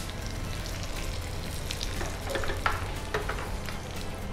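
Urad dal, dried chillies and curry leaves crackle in hot oil for a tempering, a steady broadband sizzle with a few sharper pops and stirring scrapes near the middle, close and continuous.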